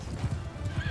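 Horse hooves clop in a quick uneven rhythm during a battle in Mount & Blade II Bannerlord, heard briefly over a dense background din.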